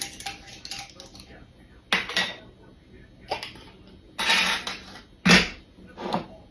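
Spice containers of oregano, garlic powder and onion powder being opened in a kitchen, with bursts of plastic clicking, snapping and rattling at irregular intervals, close up, between quieter stretches.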